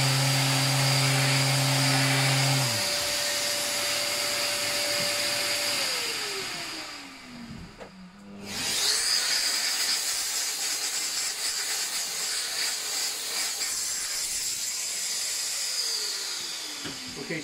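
Power tool spinning an abrasive disc to sand a wooden keepsake box, with a loud steady whine that winds down, stops briefly, then starts up again and grinds on continuously.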